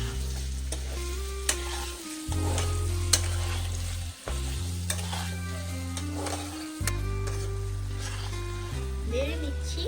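Desi chicken meat sizzles steadily in a hot pan as it is stirred, with scraping strokes and clinks of the spoon over a continuous frying hiss, close up, alongside a low droning background tone.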